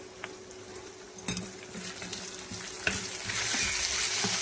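Potatoes fry in a pan with turmeric and salt, a steady sizzle that intensifies toward the end, punctuated by occasional clinks and scrapes of a utensil stirring.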